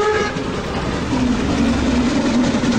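A passing train in the video game The Night of the Rabbit, a steady rumbling rattle with a sustained low horn-like tone that holds for a few seconds at moderate loudness, with no voices.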